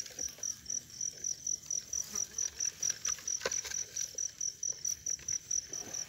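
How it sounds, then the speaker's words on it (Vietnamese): Young field crickets, caught at night, chirp close by in a steady, fast-pulsing high trill that keeps an even rhythm throughout, with faint handling noise underneath. "À, dế non nè."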